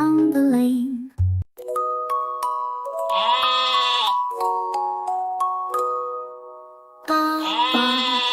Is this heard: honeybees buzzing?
no